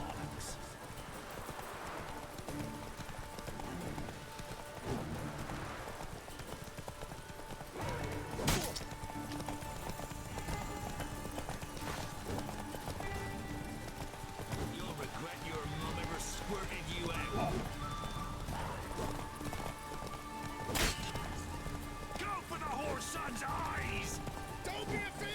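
Horse Roach from the video game The Witcher 3, with repeated clip-clop hoofbeats at a moderate level, mixed with game sounds, occasional sharp hits and a faint whinny, while a voice talks over it.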